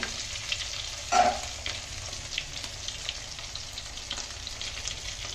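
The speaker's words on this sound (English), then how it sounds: "Frying going on." Fish slices fry in a pan with a steady, close sizzle and crackle that runs throughout, with a brief louder stir or scrape near the start and no talking.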